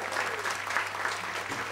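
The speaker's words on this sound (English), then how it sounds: "Can we have a round of applause for T-Trove," A small open mic crowd gives a short burst of clapping, moderately loud and fairly even, with a low steady hum running underneath.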